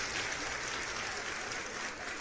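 Audience applauding a guest named Road Dog during a live trading Q&A stream, a steady wash of clapping held at an even level for a couple of seconds, somewhat faint and without distinct voices.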